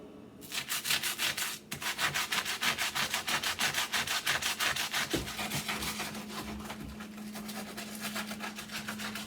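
Moldy grout between kitchen tiles is wiped with Goo Gone Grout and Tile Cleaner, a steady rhythmic rubbing and scrubbing that repeats quickly and closely for the whole stretch, with no talking.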